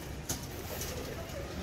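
Caged pigeons of a crane-type breed coo softly amid steady, noisy outdoor background, with a faint brief call or two standing out.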